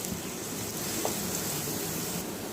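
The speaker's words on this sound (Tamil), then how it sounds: "வெங்காயத்தை நல்ல பச்சை வாசனை போய் பொன்னிறமாக வர வரைக்கும் இதை வதக்கிக்கலாம்." Onions sautéing in a pan until golden for cauliflower kurma, a steady close sizzle and crackle of hot oil holding even and loud throughout with no talking.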